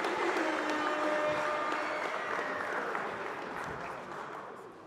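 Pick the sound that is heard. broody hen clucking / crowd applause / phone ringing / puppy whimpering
crowd applause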